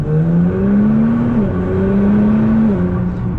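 A 600 WHP Nissan GT-R in automatic mode pulls hard, engine note climbing steadily, dropping sharply at a quick upshift, then rising again to another fast shift; loud, close and continuous with no talking.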